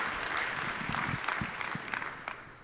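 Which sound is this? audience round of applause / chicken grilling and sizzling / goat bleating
audience round of applause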